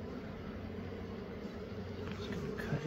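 Honey bees drone in a hive being removed from a house balcony, a steady low buzzing hum that fills the whole short stretch without talk.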